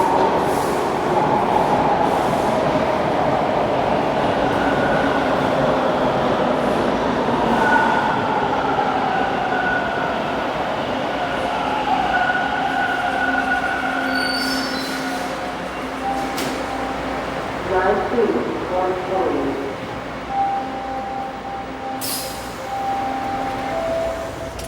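A Toronto subway train rumbles loudly into a station, a steady roar with rising and falling tones, squealing wheels and clattering near the end.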